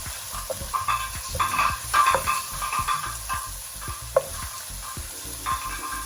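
Food frying golden in a pan for lasagna, stirred repeatedly: a close, continuous sizzle broken by frequent scraping strokes of a utensil, with no voices.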